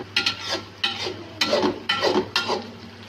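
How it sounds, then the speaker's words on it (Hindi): Green chillies are stirred in a frying pan, with five distinct scraping strokes of a utensil against the pan at a regular rhythm over a soft background sizzle. "हरी मिर्चें डाल दी हैं हमने। इसको 1 से 2 मिनट के लिए हमने फ्राई करना है।"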